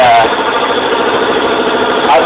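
A rebuilt 18 hp engine on a large Yardman garden tractor runs loudly and steadily nearby, a dense continuous roar with no change in pace.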